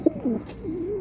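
Racing pigeons kept as breeders coo softly at close range, a short low warbling call rising and falling over steady faint background hiss.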